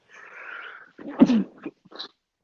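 A person sneezes once, a short sharp burst close by, between soft breathy sounds in an otherwise quiet room.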